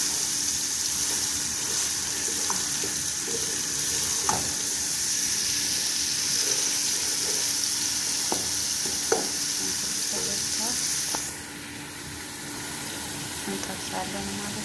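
Chopped garlic fries in oil in a pan, a continuous sizzle with occasional stirring clicks and scrapes throughout, the sizzle easing slightly near the end.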